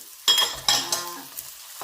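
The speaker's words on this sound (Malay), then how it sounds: "Kita tumis dulu ayam kisar ni sehingga sedikit masak" Minced chicken stir-fried in a wok: stirring and scraping with a soft sizzle underneath, a few sharp utensil clatters standing out over a steady frying hiss.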